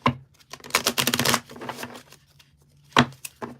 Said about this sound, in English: I'm going to pull you some cards here.